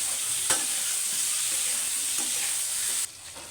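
Long slices of eggplant fry with boiled potatoes in a pan, giving a loud, steady sizzle with scraping stirs, then the sizzle suddenly drops lower near the end.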